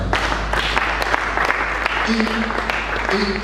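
A conference audience breaks into steady, dense applause that fills the whole moment, with a voice speaking over it near the end.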